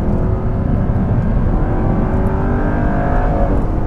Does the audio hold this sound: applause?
no